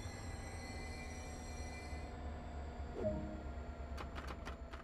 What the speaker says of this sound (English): That's the emergency stop that we were warned about.